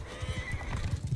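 Horse neighing and hooves clopping in the Mount & Blade video game during a cavalry battle, with repeated thudding hoofbeats and a whinny throughout, loud and close.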